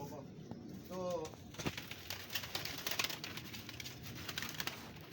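Pigeons kept by hobby fanciers, with a brief cooing call near the start followed by fluttering, scuffling and clattering movement, while people talk faintly in the background.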